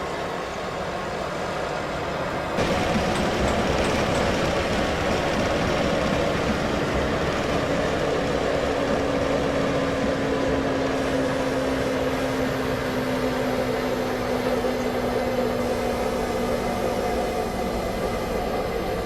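Class 101 diesel multiple unit running on the Manchester to Liverpool line in Train Simulator 2015, a steady rumbling engine drone with a constant low hum and a faint higher whine, continuous and fairly loud throughout.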